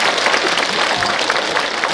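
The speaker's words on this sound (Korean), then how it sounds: "박수 한번 힘차게 보내주시기 바랍니다." An audience at a public constituency report meeting for a National Assembly member in Gangwon, Korea claps energetically, a continuous, close and fairly loud burst of applause with no speech on top.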